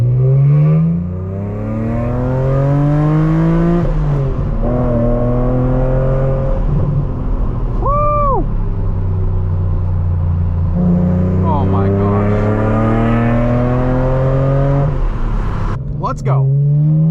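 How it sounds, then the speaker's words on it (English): A 2006 BMW Z4 M driving from inside the cabin, its engine droning loud and close, pitch climbing and dropping through repeated revs and gear changes, with a brief high whine in the middle. "let me show you what it's like to drive a Z4M"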